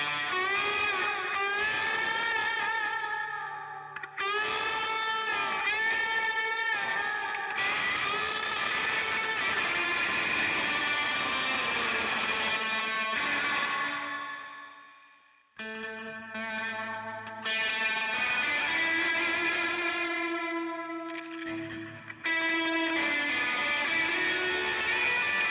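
Distorted electric guitar played through a P90 bridge pickup into an amp set up like a JTM45, loud sustained chords and riffs with a chorus-like effects wash, one brief drop near the middle before playing resumes.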